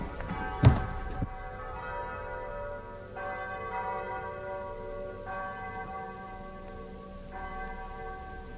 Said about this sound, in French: Vous écoutez les cloches?